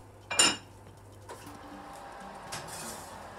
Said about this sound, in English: Meanwhile though, we are going to put our cast iron pot into the oven so it gets nice and hot as well.